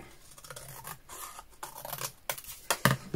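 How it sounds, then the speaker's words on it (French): Scissors snipping through paper while cutting a stamp-themed folio from discount craft supplies: a run of close, crisp cuts and rustles that grows louder toward the end. "On vient découper."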